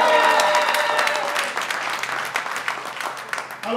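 Church congregation applauding at a wedding ceremony, a dense, steady wash of clapping from many hands that fills the space and tapers only slightly toward the end, with no talk over it.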